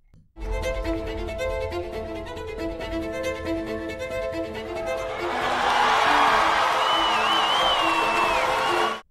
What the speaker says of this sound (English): The crowd, as you can tell from that reaction, are very excited.